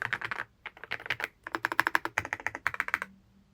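Typing on a Yunzii C75 mechanical keyboard: quick, close clusters of crisp keystrokes with a brief pause between bursts, no talking.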